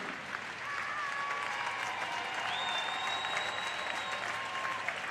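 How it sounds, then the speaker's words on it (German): A stadium crowd applauds a substituted player leaving the pitch at a women's World Cup qualifier between Austria and North Macedonia: continuous, moderately distant clapping with a few whistles, steady and unbroken for the whole stretch. "Für Naschenweng, also auf der linken Seite, wird vom Publikum begeistert verabschiedet."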